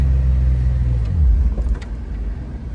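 A Jeep with a manual transmission gives a low, loud engine rumble that swells and revs as the clutch is let out, then lurches and sputters toward the end.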